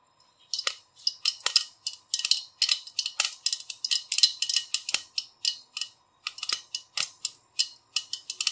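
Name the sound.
mustard seeds spluttering in hot oil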